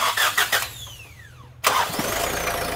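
A car engine fitted with an oil catch can cranks and catches abruptly, then settles into a loud, steady idle close by.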